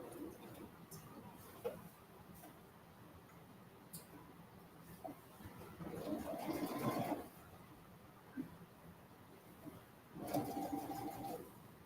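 A sewing machine runs in two short bursts, stitching the hem of a pair of kids' boardshorts, with a quiet voice talking between the runs.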